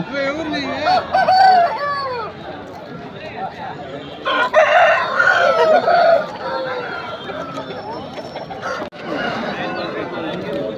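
Roosters at a village livestock market in Peeleru, Annamayya district, crow repeatedly and cluck close by, with market chatter and voices mixed in underneath.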